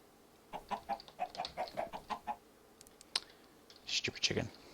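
A chicken in a video game clucks in a rapid run of short rhythmic calls, followed by a few sharper squawks and clicks, fairly quiet and close.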